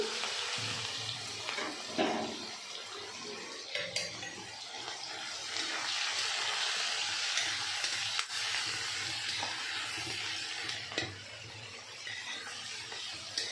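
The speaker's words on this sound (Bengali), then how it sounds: "দেখো পেঁয়াজটা ভাজা হচ্ছে" Onion frying in a pan while cooking chicken, a dense continuous sizzle with occasional clinks of a utensil against the pan, heard close up with no talking.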